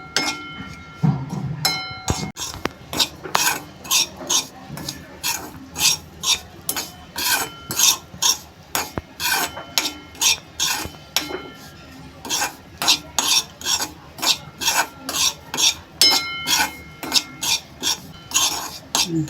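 Amaranth flour roasting in ghee is stirred briskly with a spoon, giving a continuous rhythmic scraping and clinking against the pan, loud and close throughout.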